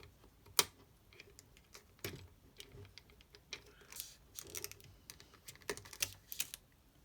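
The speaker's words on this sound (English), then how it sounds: "So press the button on the bottom and rewind the film" Film being rewound inside a Minolta XE-5 35mm camera, a run of small dry clicks and ticks from the rewind crank, irregular and close, with no talking.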